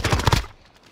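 Gunfire in the video game Call of Duty Warzone, a quick burst of several loud, close shots packed into the first half second before fading into quiet.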